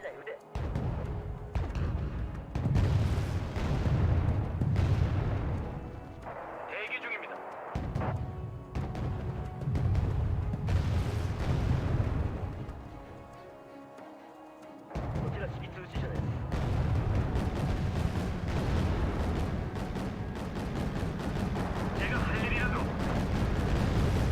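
Heavy booming naval cannon fire in the video game Wargame: Red Dragon rumbles repeatedly, deep blasts rolling one after another with brief lulls between volleys.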